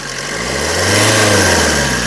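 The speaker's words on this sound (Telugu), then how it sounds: "ఇంజన్ యొక్క నాయిస్ చాలా సైలెంట్గా అయితే ఉందండి" A 2016 Maruti Suzuki S-Cross ZETA car engine runs close by, its low hum swelling slightly as it revs a little, then easing back toward a smooth idle.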